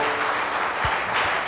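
Congregation at a church service clapping together, a steady dense wash of applause filling the space throughout the short stretch with no talk over it.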